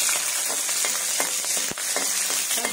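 Vegetables and spices roasting in a hot pan for a traditional Konkani breakfast dish, giving a close, continuous sizzle with light crackles and one sharp knock of a utensil, no voices.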